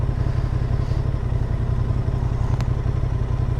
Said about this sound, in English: What a lovely motorcycle.